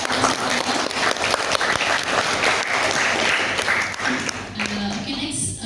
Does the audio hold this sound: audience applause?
yes